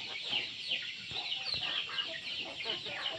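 Hmong chickens clucking around feed, a busy overlapping cluster of fowl calls with occasional sharper squawks, moderately loud and steady throughout, with no talking.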